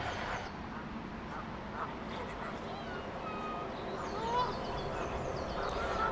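Faint honking of geese comes through a low, steady bed of background noise, with scattered calls rising slightly toward the end.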